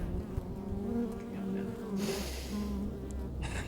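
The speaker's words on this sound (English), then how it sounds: "Oh, there's bees fucking everywhere, man." Bees buzz around close by in the outdoors with the Hadza, a continuous droning hum with faint rustling and movement noises layered over it, and no clear speech.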